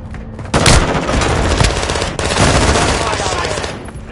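Sustained automatic machine gun fire in a squad-based shooter video game, loud and close, with dense overlapping bursts running nearly continuously for several seconds.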